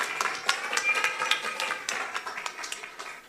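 A small audience at a business networking chapter meeting claps briefly for a member, with light, uneven hand claps that taper off toward the end.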